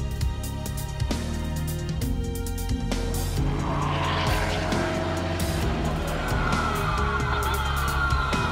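Race cars in a VLN endurance race on the Nürburgring roar past at Adenauer Forst, with a KTM battling a Ferrari; engine tones rise and fall and tires squeal as the cars sweep by, loud and close.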